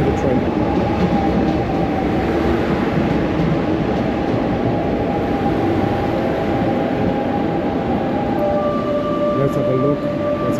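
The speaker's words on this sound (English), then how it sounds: "I think this is the train. Yep, this is the train." A train pulls into a station platform on a Barcelona rail line, giving a loud continuous low rumble and wheel noise throughout with a steady squealing tone.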